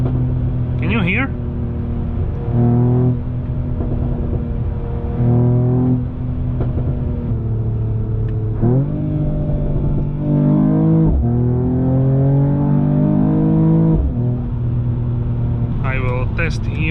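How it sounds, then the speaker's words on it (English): A 2022 Mercedes E53 AMG Coupé, EU version with particulate filter, drives with a deep droning exhaust that rises and falls through several revving pulls, with louder bursts and a crackle near the start and end, heard from inside the car. "The crackles from the exhaust are really loud"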